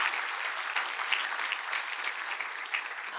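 An audience at a startup pitch showcase applauds, a steady dense stretch of many hands clapping at an even volume, uninterrupted from start to finish.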